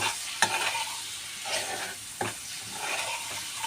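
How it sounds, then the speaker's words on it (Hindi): Chopped ginger frying in oil for masala dal while being stirred, with a steady close sizzle broken by a few sharp scrapes of a spoon against the pan and no talking. "तो इसको फ्राई कर लेंगे।"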